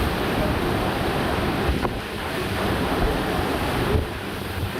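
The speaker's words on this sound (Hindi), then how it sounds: "बालासोर जिले के चांदीपुर ब्लॉक में तूफानी हवाओं के मिजाज को इन तस्वीरों में महसूस कर सकते हैं।" Stormy winds of Cyclone Yaas in Chandipur block, Balasore district, Odisha: a loud, continuous roar of wind buffeting the microphone, with surging gusts and churning water-like noise and no voices.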